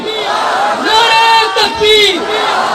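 A large crowd at a political rally roars back a religious slogan in unison, a loud, sustained chanted shout rising in two swells over a few seconds.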